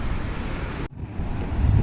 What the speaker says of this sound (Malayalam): ഇതാണ് കടൽ.